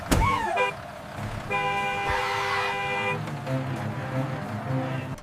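A bus horn honks in a sustained, bright blare lasting over a second, with a shorter toot and traffic-like rumble around it, loud and close.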